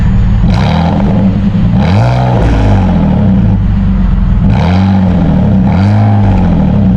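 A car engine with a stock, unmodified exhaust that still carries its catalytic converter is revved repeatedly, several rising and falling throttle blips climbing toward about 3,000 RPM, loud and close, with no talking.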